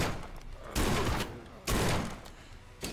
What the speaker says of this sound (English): I hear somebody shooting, but I can't see him